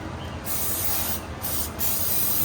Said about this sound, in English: so I'm just going to clean these with the brake cleaner